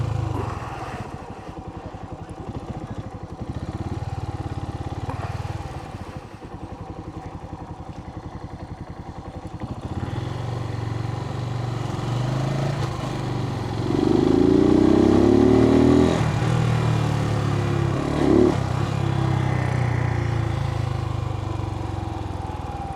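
A Suzuki motorcycle rides through downtown streets at night, its engine idling and rumbling steadily up close, then revving and climbing in pitch as it pulls away and accelerates.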